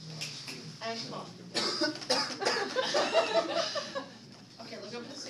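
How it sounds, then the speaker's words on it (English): A forceful cough made as part of a physiotherapy airway-clearance technique, one cough burst partway through, with a therapist's instructions spoken before and around it. "Breathe in. And cough."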